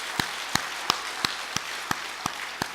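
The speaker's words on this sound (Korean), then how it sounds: "우리 박수 한 번 더 하겠습니다." Church congregation at a revival meeting clapping in unison, eight sharp, evenly spaced claps in a steady rhythm, loud and close with no talk over them.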